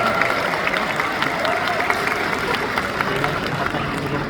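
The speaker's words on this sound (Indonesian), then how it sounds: "Tepuk tangan untuk semuanya." A crowd at a graduation ceremony applauds steadily, a dense wash of clapping hands that continues throughout.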